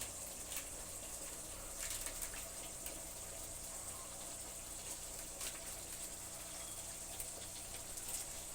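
Lukewarm water poured into a pan while cooking a doi katla fish curry, a steady faint gushing stream running evenly throughout with no talk.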